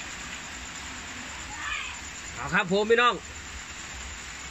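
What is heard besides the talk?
heavy rain falling at night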